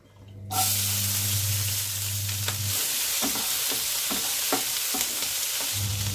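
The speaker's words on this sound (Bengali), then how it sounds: "এবার কড়াইয়ে তেলেতেই পেঁয়াজ কলি নিয়েছি 50 গ্রামের মতো দিয়ে দিলাম" Oil sizzles and hisses steadily as about 50 grams of onion stalks fry in a pan, with a low hum and occasional stirring clicks.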